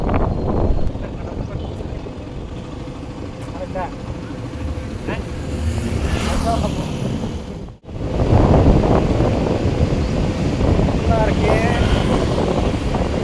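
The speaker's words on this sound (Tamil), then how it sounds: "என்னடா இப்படி குளிர் காத்துடிக்குது சாமி?" Cold wind roars steadily across the microphone during a motorbike road trip on the Valparai–Thalanar road, loud and continuous with a brief dropout midway, while a rider talks over it.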